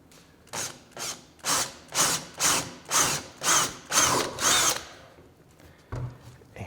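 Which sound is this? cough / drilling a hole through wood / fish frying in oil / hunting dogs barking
drilling a hole through wood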